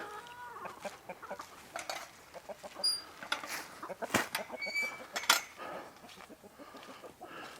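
Backyard chickens and an old rooster cluck and squawk while pecking at fresh garden greens, a busy scatter of close clucks and a few sharp calls.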